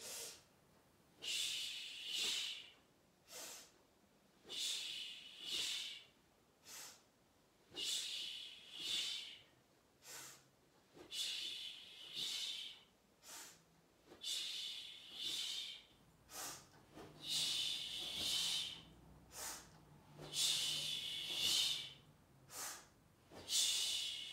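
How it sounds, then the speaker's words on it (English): Quick in-breaths and two-part exhales during a Pilates mat class: close, breathy hissing breaths repeat in a steady rhythm of about a dozen cycles, each forceful exhale split into two pushes, with no talking. "Quick in-breath, 2-part exhale to roll."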